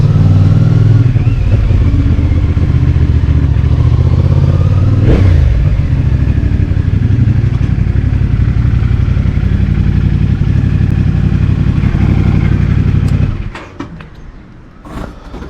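A CFmoto 450SS motorcycle engine drones loudly and steadily at close range while riding, with a brief jolt partway through, then drops to a quieter idle near the end.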